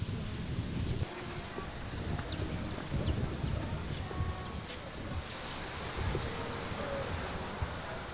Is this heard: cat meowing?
no